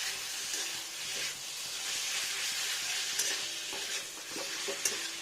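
Ginger and garlic paste frying in a pan for a Bengali fish curry, with a steady broadband sizzle and hiss and occasional stirring scrapes, close and continuous, with no talk.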